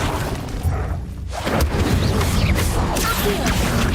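A fire spell cast in the video game Hogwarts Legacy: a dense, roaring burst of flame with a whooshing surge midway, booming and sustained, amid other spell effects.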